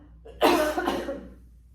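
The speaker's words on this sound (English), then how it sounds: "Excuse my cough." A single close, throaty cough, abrupt and fairly loud, trailing off quickly into quiet.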